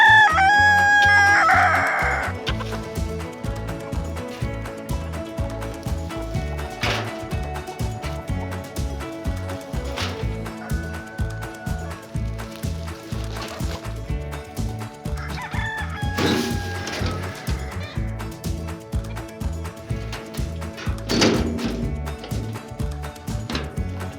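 Chicken crowing and clucking on a Texas homestead, clear and fairly close at the start and recurring briefly over steady rhythmic background music that runs throughout.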